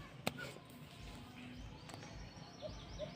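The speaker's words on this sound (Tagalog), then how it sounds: "yung narinig po ninyo ngayon na humuhuni is inakay po yun" A fledgling bird chirps faintly in a quiet outdoor setting, giving a few soft, thin calls with gaps between them.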